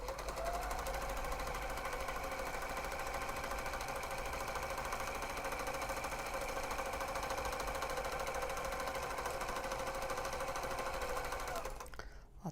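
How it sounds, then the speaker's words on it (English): A serger with trimming knives cuts thread and fabric edges in a fast, continuous mechanical chatter, steady and close, running uninterrupted before stopping at the end. "let's just trim this off with the serger"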